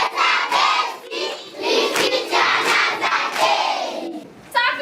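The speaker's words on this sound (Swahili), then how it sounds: "Mpigie makofi." A class of children claps together in a classroom, joined by loud group shouting and chanting in rhythmic bursts that swell and dip for several seconds.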